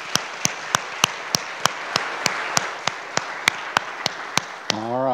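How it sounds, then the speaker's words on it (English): A church congregation applauds a member's birthday in a steady wash of clapping with sharp, evenly spaced claps standing out, ending as a voice begins to speak. "Give Betty a big round of applause."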